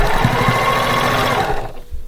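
A sewing machine stitches rapidly over a seam on a fabric book pillow, going back over it to reinforce it, a close mechanical whir that stops just before the end.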